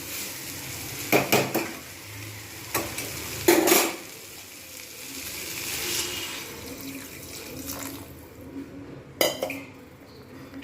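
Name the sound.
room-temperature water poured into vegetable paneer curry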